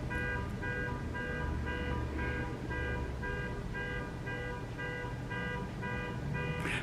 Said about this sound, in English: Shut your alarm off, my friend.